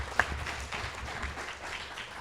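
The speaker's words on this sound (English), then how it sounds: "Another round of applause." Audience applause at a city ward candidates' debate, a steady, moderately loud spread of clapping for a couple of seconds with one sharp clap standing out near the start.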